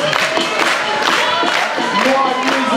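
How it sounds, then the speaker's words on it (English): A crowd at a vogue femme ball claps and cheers together, a dense, loud wash of hands and voices with whoops rising above it, steady throughout. "Everybody clap,"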